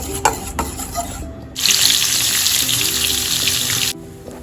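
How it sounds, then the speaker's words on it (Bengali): An omelette frying in a pan in a home kitchen: a loud, steady sizzle that swells up suddenly and holds for a couple of seconds before cutting off, after some quieter kitchen clatter. "সো বন্ধুরা এদিকে অমলেট হচ্ছে"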